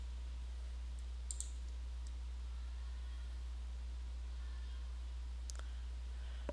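Faint computer mouse clicks, a quick double click early and another pair near the end, over a steady low electrical hum.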